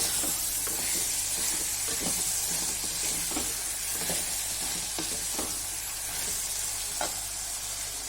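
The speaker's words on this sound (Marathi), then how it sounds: "बटाटे आणि फ्राय फुलगोबी जी फ्राय केलेली होती ती टाकूया मिक्स करूया" Fried potatoes and cauliflower being stirred into vegetable pulao sizzling in a frying pan, a steady close hiss of frying oil with soft scraping stirs recurring throughout, no talking.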